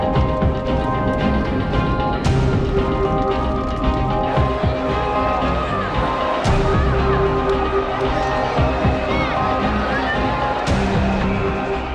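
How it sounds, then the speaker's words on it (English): A large crowd in Congo cheers and shouts as a man arrives, a dense, continuous roar of voices with a few sharper bursts of noise rising out of it. "Upon arrival, the man is greeted by a cheering crowd."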